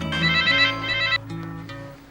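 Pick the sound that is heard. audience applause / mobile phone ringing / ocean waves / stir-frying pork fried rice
mobile phone ringing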